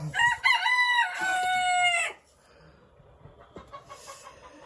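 Rooster crowing loudly and close in a poultry shed at feeding time, with hens clucking and softer fowl sounds continuing quietly after the crow ends.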